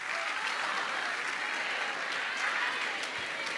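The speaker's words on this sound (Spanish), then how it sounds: "Dale un mejor aplauso a Cristo" A church congregation applauds in a dense, continuous burst of clapping from many hands, filling the whole moment at steady loudness.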